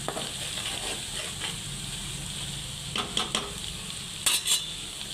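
Ginger paste fries until reddish in a pan for a chicken pickle. A close, steady sizzle is broken by a few metal-on-metal clinks and scrapes of a spoon against the pan, with no one speaking.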